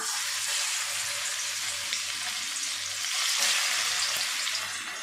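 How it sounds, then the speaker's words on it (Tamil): Steady, loud sizzling and crackling of marinated chicken frying in hot oil over medium heat, a continuous bright hiss with small pops throughout. "சிக்கன் பொரிக்கும் போது அடுப்பை மிதமான தணலில் வச்சு தான் பொரிக்கணும்"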